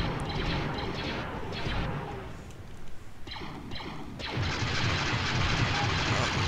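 Star Wars video game weapons open fire in a steady, dense roar of blasts and booms, with sharp bursts crackling through the middle and heavy rumbling continuing loud throughout.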